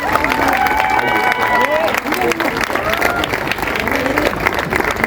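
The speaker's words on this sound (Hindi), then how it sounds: "का स्वागत कीजिए तालियों के साथ।" An audience at a literature festival in Jhansi applauds a guest, with dense, sustained clapping and some crowd noise and voices throughout.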